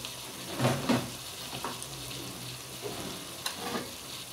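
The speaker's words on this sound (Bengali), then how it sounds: "সবগুলো মশলা আমি আবারও ভালোভাবে কষিয়ে নিব" Spices sizzle in hot oil for a shahi chickpea curry, a quiet steady fry with a few soft stirring scrapes and clinks against the pan, close and unaccompanied by talk.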